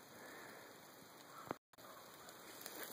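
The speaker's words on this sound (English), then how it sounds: "Okay, so it's raining a bit," Light rain falling in a forest, a faint, steady patter under a constant high insect-like whine, briefly broken by a sharp handling knock and a moment of silence.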